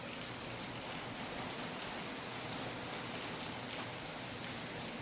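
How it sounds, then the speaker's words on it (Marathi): Heavy morning rain in Titwala pours down in a loud, unbroken hiss of dense drops striking surfaces, with no pauses and no voices. "पाऊस बघा किती जोरात आहे. जोरात पाऊस पडतोय."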